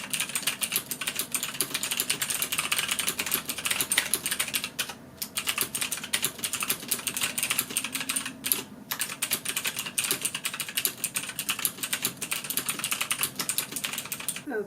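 Continuous rapid typing on a computer keyboard at a desk, steady clicking keystrokes close up with two brief pauses, no voices.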